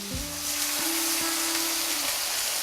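Meat browning in a pan over a fire sizzles with a steady, hissing fry throughout, a few faint tonal clinks sounding near the start.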